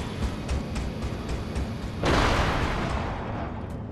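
A large nuke detonates in Destroy All Humans, a sudden loud booming blast about halfway through that rolls out into a sustained rumbling roar over a background of smaller bangs.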